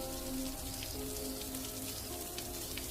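Steady rain patters on surfaces in a continuous, moderately loud hiss with scattered drop ticks, over a faint sustained tonal background.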